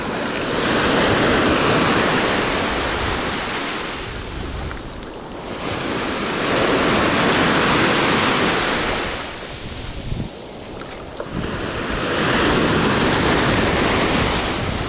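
Sea waves wash in on Cleopatra Beach in Alanya, Türkiye, in loud broad surges that swell and recede every few seconds, with some wind buffeting the microphone and no talk.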